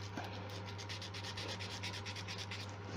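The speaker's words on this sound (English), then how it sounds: "give it a rub on a piece of sandpaper to roughen it up" A smooth, shiny piece is rubbed back and forth on sandpaper to roughen it for gluing in a woodturning workshop, making a close, rapid, rhythmic scratchy rasp of quick strokes.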